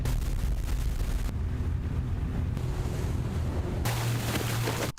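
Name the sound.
waves splashing toward camera on lake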